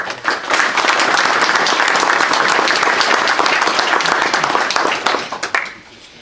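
An audience at a general assembly meeting in Montluçon bursts into loud, dense applause that holds steady for about five seconds, then thins out into scattered claps and stops.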